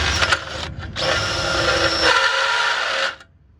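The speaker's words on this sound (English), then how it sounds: "we can drill a hole and countersink at the same time" Power drill with a countersink bit boring into a concrete step, loud close whine in two bursts separated by a brief pause, the second held steady for about two seconds before cutting off.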